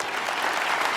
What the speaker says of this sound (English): I want you to start clapping your hands.